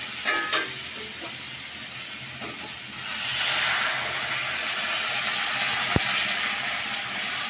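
Water poured into a hot pan while cooking a tangy mango dish, a broad steaming hiss that rises after a few seconds and holds steady, close and fairly loud, with a few clinks at the start.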